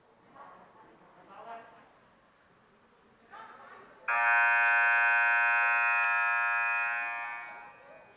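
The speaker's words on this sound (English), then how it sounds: "And if you hear the buzzer, that means it's time for the 4th set of the game." Loud sustained buzzer at a varsity men's volleyball match signals the start of a set. It cuts in abruptly after faint voices and holds steady for about four seconds before fading.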